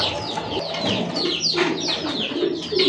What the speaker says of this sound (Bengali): এই মুহূর্তে স্ক্রিনে দেখতে পাচ্ছেন দুই দুটা কবুতর দেখেন, পাকিস্তানি একটা হাইফ্লার কবুতর